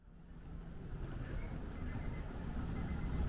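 An alarm clock beeps in short repeated bursts, faint and thin over steady cabin hum on a Singapore Airlines A380 first class suite flight.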